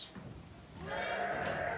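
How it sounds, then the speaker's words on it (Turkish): A single large lamb bleats nearby on a farm, a wavering drawn-out call rising from quiet background noise. "burada da büyük kuzular var"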